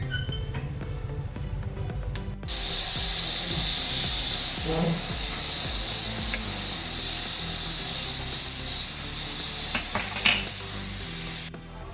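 Steady hiss and sizzle of mustard and cumin seeds roasting in a hot pan, with faint stirring scrapes and no talking.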